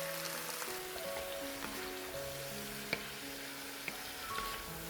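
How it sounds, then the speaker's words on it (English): Pork searing in a pot for a one-pot pork and sauerkraut dinner, giving a steady, moderate sizzle and crackle with a few sharp pops, no talking. "I'm going to sear it until it's turning brown on all sides"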